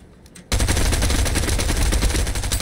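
Sustained Fortnite gunfire in a squads match opens suddenly and keeps going as a loud, dense stream of rapid shots with no pause.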